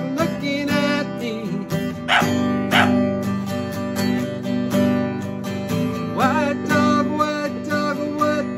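A white dog barks and yips several times in short bursts, mixed in with a loud musical backing track.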